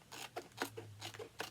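Scissors snip through a paper planner page in a quick run of several close, crisp cuts with no voices.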